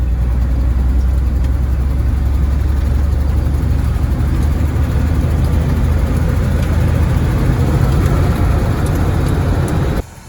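A worn 1979 Ford F150 truck engine runs steadily in the snow, a loud, deep low-end rumble with a droning idle-like hum holding for about ten seconds before cutting away abruptly, no talking.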